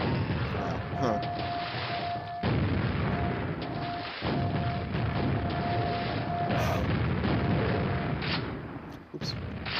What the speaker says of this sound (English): Dodged one grenade right into the path of the other